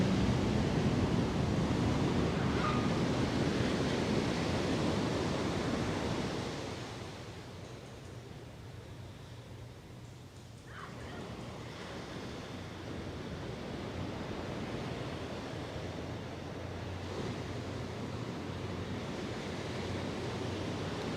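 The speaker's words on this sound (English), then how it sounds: "listen to the waves of the ocean" Ocean surf rolls and washes steadily as a continuous broadband roar, loud at first and then easing to a softer, even wash, with no voices present.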